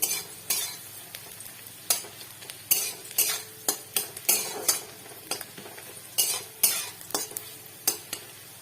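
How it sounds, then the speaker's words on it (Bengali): Bitter gourd fries in ghee while a metal spoon scrapes and turns it in the pan, producing a soft continuous sizzle broken by repeated sharp clinks and scrapes at an uneven rhythm, close and unaccompanied by speech. "ভালো করে নেড়ে নেবো ভেজে নেবো"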